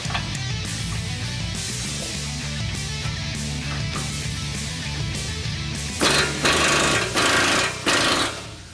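A power impact tool hammers loose a factory-tight 30mm nut on a 2017–2019 Ford F-150 Raptor, a loud, steady rattling burst that grows harsher and more intense in its final stretch.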